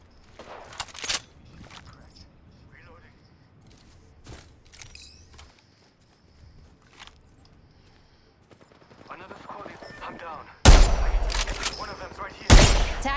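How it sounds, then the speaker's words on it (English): Bursts of automatic gunfire in a squad-based video game shooter, scattered sharp shots early on, then loud sustained volleys near the end, with quieter ambient game sounds and footsteps between. "Opening fire on our prey."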